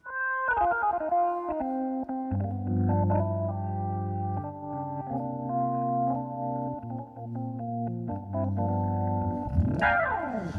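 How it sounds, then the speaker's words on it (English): Smooth, pure sine wave organ tones from a Yamaha YC61 play a slow sequence of sustained low notes, ending with a rising swept tone. "F1 is a pure sine wave organ."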